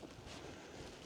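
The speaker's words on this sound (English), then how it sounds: "There's a fair breeze here" Steady breeze blowing outdoors on open Dartmoor moorland, a continuous soft rushing buffet of wind across the microphone with no other sounds.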